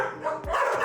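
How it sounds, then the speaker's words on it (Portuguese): Dogs barking at a rescue kennel inside a house turned shelter, a quick close bark over a loud, dense background of overlapping barking and noise. "A sinfonia dos latidos"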